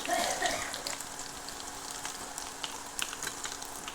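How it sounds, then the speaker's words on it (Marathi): Quiet, continuous sizzling of curry leaves, cumin and mustard seeds frying in hot oil, with a few soft crackles and pops near the microphone. "इथे कढीपत्त्याची फोडणी दिलेली आहे कढीपत्ता जिरे मोहरी"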